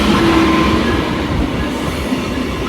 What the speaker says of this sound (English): These are the trains replacing the Renaissance cars.